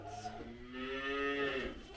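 A calf lets out a single drawn-out moo at feeding time on a small farm, a close, fairly quiet bovine call that rises and falls over about a second.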